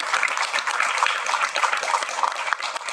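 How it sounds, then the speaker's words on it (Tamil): Loud applause from an audience at a Tamil film's audio and trailer launch event, a dense steady clatter of many hands lasting throughout with no speech over it. "ஏன்னா பலத்த கரகோஷம் அவருக்கு"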